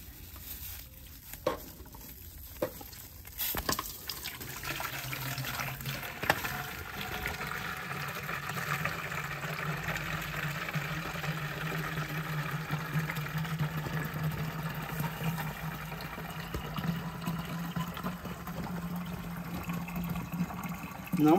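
Water pours from a watering can into a potted desert rose, a continuous splashing patter that runs steadily for about twenty seconds after a few scattered knocks at the start, with no voices.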